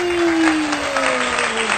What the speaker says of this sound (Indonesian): Tepuk tangan di semuanya.